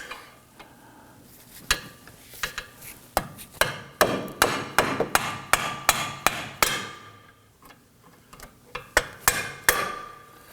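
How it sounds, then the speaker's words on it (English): Repeated sharp metallic hammer strikes on a screwdriver against a Toyota Camry inner tie rod ring out up close, some in quick bursts and others spaced apart, each a hard clank with a brief ringing tail. "I'm going to give it a few whacks with the hammer"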